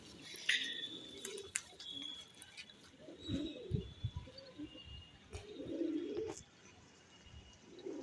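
Pigeons coo in soft, low throaty bursts, faint and close, with occasional rustling and a few high chirps in the background.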